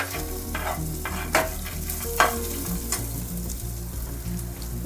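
Peanuts roast in a pan with a steady dry sizzle, stirred with a few distinct scraping clicks against the metal, close and alone with no talking.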